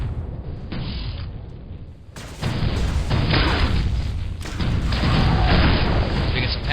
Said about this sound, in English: So we're going to be hearing a lot of things go boom real soon.